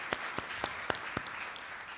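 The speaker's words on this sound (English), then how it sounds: "Clap for her." A few scattered claps at a conference, five or six sharp separate hand strikes spaced roughly evenly, fairly faint against a quiet room.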